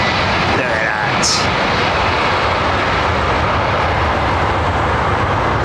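A large airliner lands on runway 27R at London Heathrow, a loud, steady roar of jet engines close by that holds throughout, with a brief higher whine early on.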